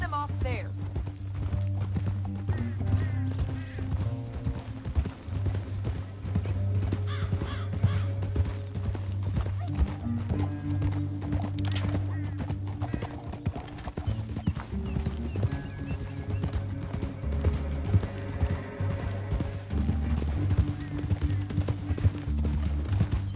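Steady clip-clopping hooves of horses in motion in Red Dead Redemption, a continuous rhythmic trot under music and occasional voices, with a horse whinny now and then.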